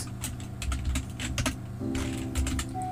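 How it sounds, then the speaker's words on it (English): Rapid, uneven typing on a computer keyboard during a Roblox Brookhaven roleplay game, with close, crisp key clicks in quick bursts and short pauses and no talking. "Y'all got to excuse how I'm typing"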